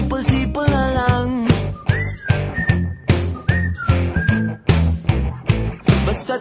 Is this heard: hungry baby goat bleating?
no